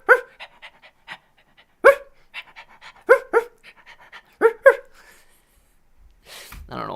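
A dog pants quickly and gives a few sharp barks in a donation alert. Rhythmic breathy huffs are broken by louder yelps, close and clear, followed by a brief sound at the end.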